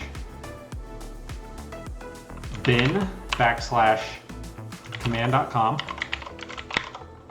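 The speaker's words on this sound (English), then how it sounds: "I'll just type c:\bin\command.com" Keys clatter on a computer keyboard as a command is typed into a FreeDOS prompt running in DOSEMU, with crisp clicks in quick bursts at the start and end and a voice talking over the middle stretch.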